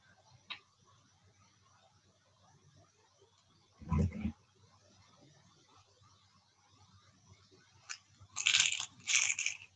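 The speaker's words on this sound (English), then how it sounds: "I hear somebody crunching." Someone crunches food into an open microphone on an online call, a few faint, irregular bursts of crunching and clicking over quiet background hiss.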